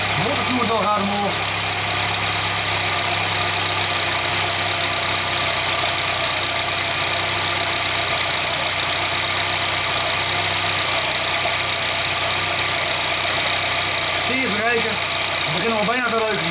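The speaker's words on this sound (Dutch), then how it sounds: "De motor doet het wel hard omhoog" A 1990 car engine runs steadily after its ignition timing has been adjusted, a loud, close, continuous drone with a slightly uneven idle. Brief voices come in at the start and near the end.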